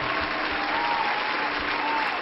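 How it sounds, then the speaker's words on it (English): Audience applause at a live show after a singer's performance, steady and full throughout with dense clapping and no talk. "clap it up!"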